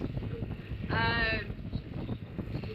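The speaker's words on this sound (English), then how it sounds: "it's quite windy" Wind buffets the microphone in low, rumbling gusts, with a brief harmonic hum partway through.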